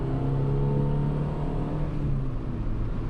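A Honda Super N kei car pulls in second gear, its small engine making a steady, buzzy drone that holds close and fairly loud throughout, with no talking over it.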